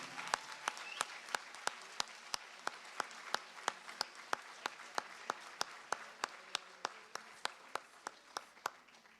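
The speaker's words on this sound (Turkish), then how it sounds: "Alkışlarınızla." A Turkish music concert audience claps in steady, even unison to welcome a singer to the stage, a faint but regular beat of single claps held throughout without talk.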